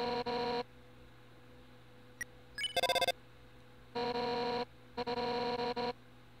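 A cell phone rings in the video game Undertale, bursts of electronic tonal ringing repeating in short clear blasts with a brief chirpy jingle between them over a faint hum.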